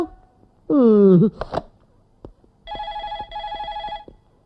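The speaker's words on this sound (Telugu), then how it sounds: "ఫోన్ రింగ్ అవుతుంది" A telephone rings in a steady electronic trill, two bursts close together, after a short vocal sound and a few knocks.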